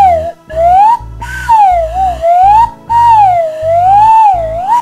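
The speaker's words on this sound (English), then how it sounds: "This is a slide whistle." A slide whistle carved from a hollowed-out carrot, playing a continuous sliding tone that glides up and down in pitch over a low rhythmic backing beat, close and loud.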